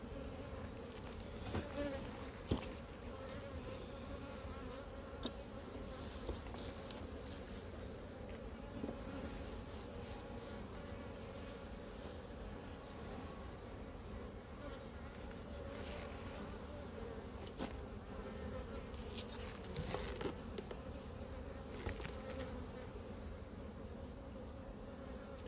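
Honeybees buzzing around a beehive in an apiary, a faint, continuous drone with individual bees passing close at times.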